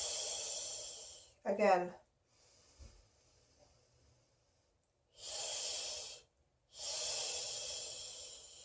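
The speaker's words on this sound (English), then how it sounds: "Inhale through the nose." Nasal inhalation during a childbirth breathing exercise: several loud, sustained airy breaths drawn through the nose in separate bursts, with a brief spoken cue from an instructor in between.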